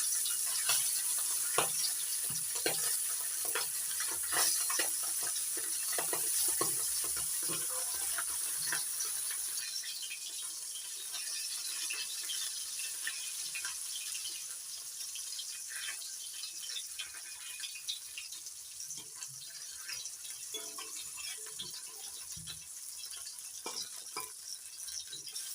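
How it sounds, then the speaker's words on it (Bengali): Remaining tengra fish fry in a pan, a steady sizzle with rattling stirs and scraping, loud at first and settling into a softer, even frying hiss; no voices. "বাকি ট্যাংরা মাছগুলো একইভাবে ভেজে নেব।"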